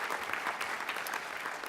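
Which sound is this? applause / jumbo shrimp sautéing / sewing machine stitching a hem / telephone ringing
applause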